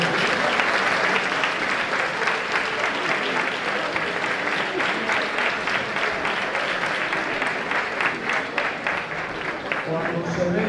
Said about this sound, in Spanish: otro aplauso para los pedidos.